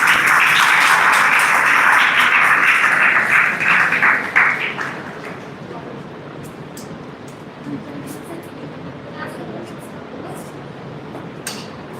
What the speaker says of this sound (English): Please welcome them with a great round of applause.